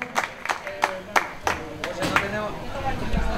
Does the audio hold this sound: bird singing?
no